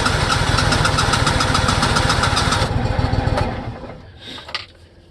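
A Simplicity Legacy 20 tractor engine idles loudly and steadily with a fast, even pulse on a cold 29-degree day, then cuts back sharply partway through and fades to a low rumble with a brief clatter near the end.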